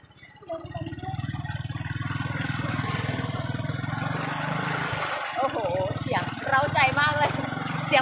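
A manual-transmission convertible car's engine runs steadily with a low rumbling drone, while people talk over it and laughter and excited voices rise toward the end.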